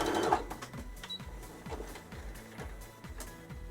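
Sewing machine back stitching along the edge of a quilted fabric rag bag: a steady mechanical rattle of rapid needle strokes with a repeating rhythmic pattern, close and moderately loud, no talking.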